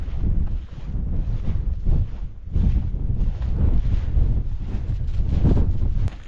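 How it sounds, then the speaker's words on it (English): Cold, biting wind buffets the microphone at a freezing winter wild camp on Pen y Fan mountain, loud rumbling gusts rising and falling continuously with no talk. "That wind's got a"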